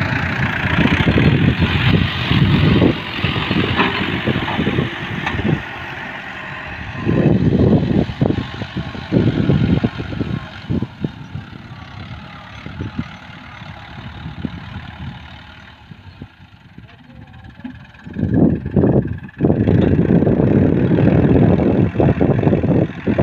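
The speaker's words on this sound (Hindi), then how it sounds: "ये ट्रैक्टर से मिट्टी लोड कर रहे हैं।" A tractor engine runs steadily while soil is loaded into its trolley beside the Jhelum river, the low, continuous diesel drone dipping briefly in load before rising again, heard up close with no talk.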